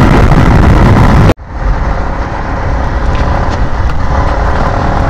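A Yamaha MT15 motorcycle rides at high speed, giving a loud, steady roar of engine and wind rush that cuts off sharply for an instant and then resumes at full, even strength.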